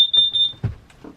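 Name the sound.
smoke alarm going off on a narrowboat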